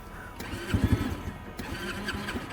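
The electric starter on a Yamasaki YM50 50cc scooter cranks briefly and close by. It gives a short whirring grind with a couple of clicks, and the engine does not catch.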